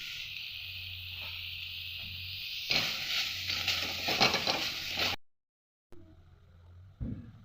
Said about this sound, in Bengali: পেঁয়াজটা আমি নেড়ে নেব।